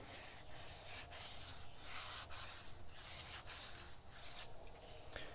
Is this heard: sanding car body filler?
yes